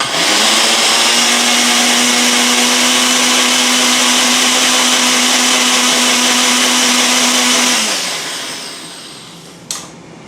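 A blender whirs loudly at a steady pitch for several seconds, then winds down and stops, followed by a brief clunk.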